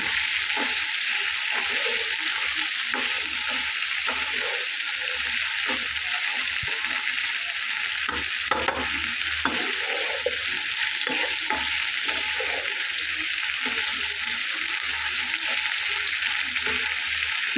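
Chicken masala curry sizzling and frying in a pan as it is stirred, a steady loud hiss with scraping stir strokes throughout, no talk.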